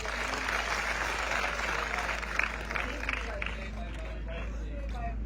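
A crowd at a Gujarat Kshatriya Thakor Sena gathering claps together in a steady wash of applause, with some murmuring voices mixed in.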